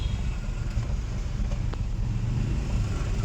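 A manual car engine running in first gear on a narrow lane, a steady, loud, low rumbling hum close by that holds even without revving, with no voices.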